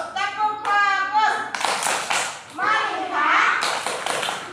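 A class of children chants a rhythmic focus clap routine with their teacher, sung voices alternating with bursts of quick, crisp group clapping in a patterned rhythm, loud and close in a classroom.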